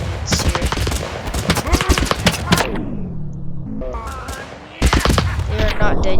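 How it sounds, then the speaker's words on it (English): Bursts of machine-gun fire in the TABS battle game, a WW1-style French machine-gun position firing on German troops, loud and rapid, then a short lull and a fresh volley. "The French machine guns reloading now to open up again on these Germans here"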